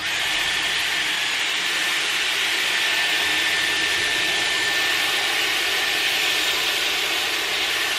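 A Dyson Airwrap hair styler blows a steady, loud stream of air while curling hair, a continuous airy rush with a thin whine above it that holds unchanged from start to finish, with no talking.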